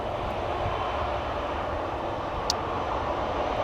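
The 15-year-old jet OE-LKC, first flown in October 2009, departs Amsterdam Schiphol Airport with a steady, broad, distant engine roar that holds even throughout, with no talking.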